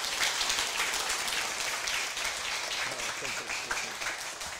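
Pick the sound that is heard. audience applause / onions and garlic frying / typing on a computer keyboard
audience applause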